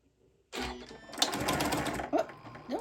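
A sewing machine stitches a quilted placemat in a sewing class, a close, quick whirring burst of about one and a half seconds after a brief quiet start, with a short voice at the end.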